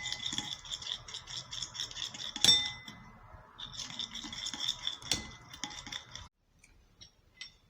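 Egg yolk and Vaseline are stirred together in a small container, giving rapid scraping and clicking bursts of utensil against the bowl, with brief pauses and a sharp knock partway through.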